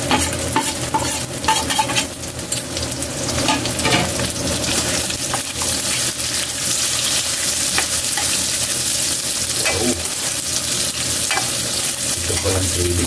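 Onions fry in a pan for pancit, a dense continuous sizzle close up, with scattered scrapes and light clinks of stirring on top.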